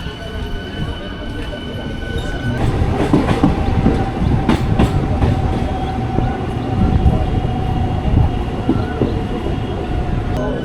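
A crowded passenger train on the way to Naihati junction runs with a loud, steady rumble and rhythmic clatter of wheels, with a murmur of voices in the background.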